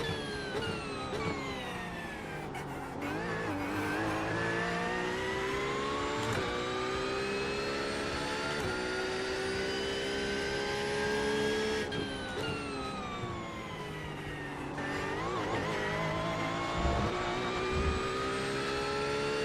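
A race car engine in the iRacing simulator revs hard and continuously, climbing and dropping in pitch through gear changes and corners. It is loud and sustained, with no talking.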